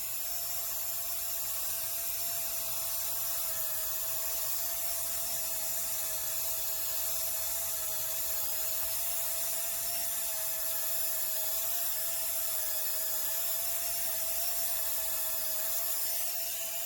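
A rotary tool at speed setting 15 spins a fluffy buffing pad around the edge of a polymer clay pendant, giving a steady, continuous high whine with a constant pitch throughout, close and alone.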